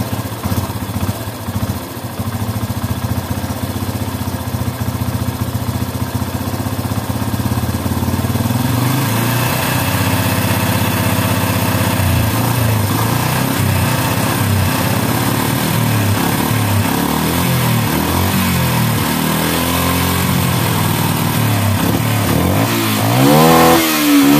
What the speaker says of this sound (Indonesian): Masih saja agak nembak-nembak.